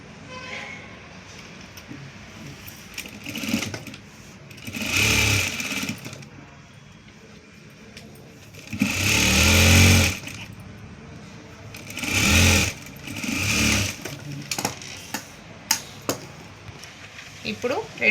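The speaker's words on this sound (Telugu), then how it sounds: "ఇప్పుడు ఇదొక స్ట్రైట్ కుట్టు వేసుకోండి" A sewing machine runs a straight seam on fabric for tailoring, in several bursts of rapid mechanical whirring, loudest around the middle, separated by quieter pauses, close up, with no talking.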